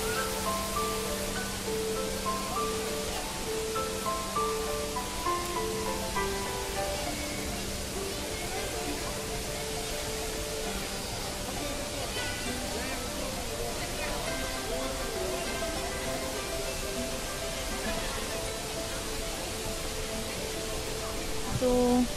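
The towering indoor waterfall at Jewel, Changi Airport, Singapore, gives a continuous broad rushing roar that stays steady throughout, with people talking in the background over it.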